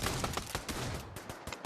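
A shotgun sniper rifle firing in the video game Pavlov VR, a rapid cluster of loud, close gunshot blasts running together across a short burst.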